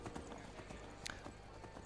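Horse hooves clip-clopping in the video game The Elder Scrolls V: Skyrim, a steady run of quick hoofbeats at even volume with a light game soundscape behind.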